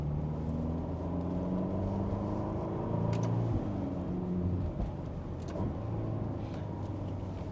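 Ferrari GTC4Lusso T driving on the road, a steady, loud engine drone with low rumbling tones held throughout and slight shifts in pitch as it cruises.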